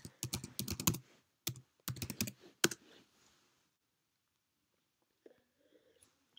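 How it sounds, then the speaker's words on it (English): A web address typed on a computer keyboard: quick bursts of crisp keystrokes in three clusters, close and clear, followed by near silence with a few faint clicks. "Then open up your web browser again, type in cimatech.net."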